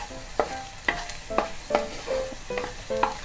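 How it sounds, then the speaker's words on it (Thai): Garlic fries in hot oil over medium heat for a butter omelette, with a soft sizzle beneath several clear scraping, clinking strokes of a utensil stirring it, close up and without talk. "เวลาเราเจียวกระเทียมนี่ก็ต้องหมั่นคนนิดนึงนะคะ"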